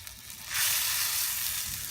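Frog legs adobo simmer in their marinade in a pan, with a steady broad sizzling hiss that swells after a brief quiet start and holds evenly close up.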